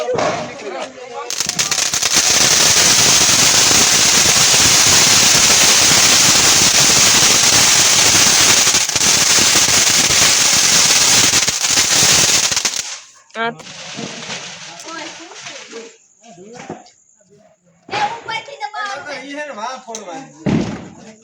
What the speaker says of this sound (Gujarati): એ ઉતરી બોમ્બ ફૂટે